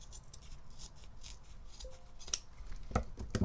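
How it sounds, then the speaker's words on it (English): Scissors cut through sash fabric in a few soft, close snips and rustles, quiet at first and growing sharper toward the end, with faint handling noise and no talk. "you're gonna go ahead and cut them in the middle, evenly in the middle"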